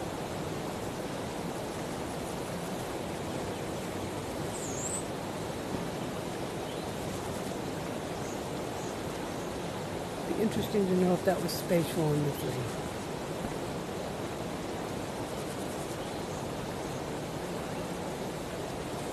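A continuous rushing waterfall in Medieval Dynasty VR fills the background as a steady broadband hiss, while someone speaks briefly over it midway through.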